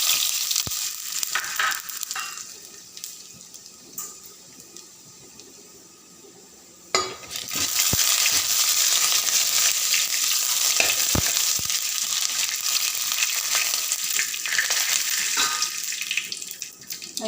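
Urad dal dropped into hot oil in a pan for a Kerala-style tapioca dish: a quieter hiss with light clinks, then a sudden loud crackling sizzle that stays strong and steady.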